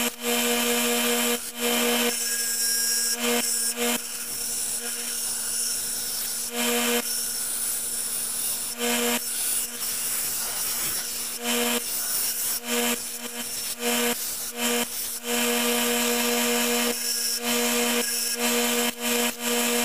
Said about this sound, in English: we're going to cut or grind this thing down to the shape it needs to be in